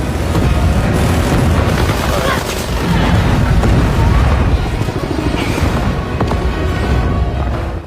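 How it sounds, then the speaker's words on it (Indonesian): A huge explosion in the war film The Covenant, deep booming rumble with layered blasts and crackling debris, loud and continuous for the full stretch. "tiba-tiba sebuah ledakan hebat terjadi."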